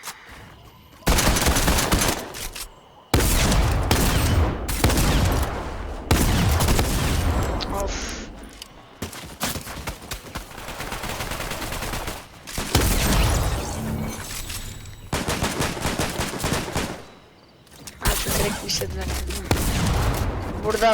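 Rapid gunfire in a video game shootout: repeated loud bursts of automatic fire and single shots, broken by short pauses, running throughout with little letup.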